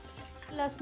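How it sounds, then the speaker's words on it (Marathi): Crushed garlic sizzles in hot oil as a tempering for a traditional Maharashtrian katachi amti, a short, soft frying hiss heard close up while someone talks over it. "लसूण टाकलेला मी एवढा गोल्डन ब्राऊन होईपर्यंत आपण त्याच्यामध्ये ठेवायचा आहे."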